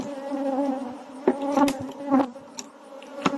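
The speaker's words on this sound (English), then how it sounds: "These bees are not coming for honey or bee." Bees buzz continuously nearby in a steady droning hum, with individual insects swelling louder as they fly past.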